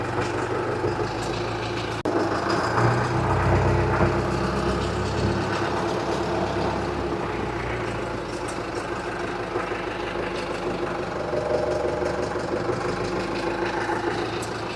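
A Same Dorado 75 tractor engine runs steadily as the tractor maneuvers to line up with a Fama hedge trimmer frame, a continuous, fairly loud diesel drone with a low rumble and no talk.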